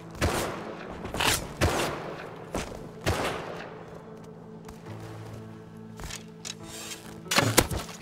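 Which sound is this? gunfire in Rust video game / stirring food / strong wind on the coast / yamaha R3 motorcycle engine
gunfire in Rust video game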